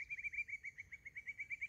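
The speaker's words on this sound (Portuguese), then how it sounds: "olha o som dos passarinhos" Small birds sing at a cassava plantation, a steady run of bright, rapid chirps repeating in a quick, even rhythm, fairly close and clear over a low outdoor rumble, with no voices.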